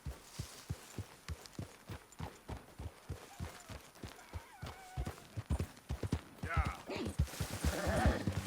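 Hooves of a horse in the video game Red Dead Redemption 2 clop in a steady walking rhythm, close and clear, while people talk over them and other game sounds rise near the end.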